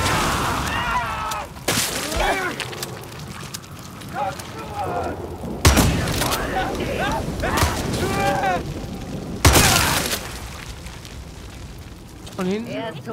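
Gunshots and several heavy explosions boom in Far Cry 6 co-op combat, with loud blasts spaced through the stretch, while players talk and shout throughout.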